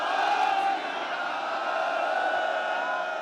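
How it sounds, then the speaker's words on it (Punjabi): A large crowd at a Punjab political rally shouts the Sikh jaikara slogan in response. It is a steady, massed roar of voices, held at an even level throughout. "ਜਕਾਰਾ ਛੱਡੋ ਬੋਲੇ ਸੋ ਨਿਹਾਲ"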